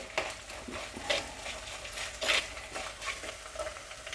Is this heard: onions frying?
yes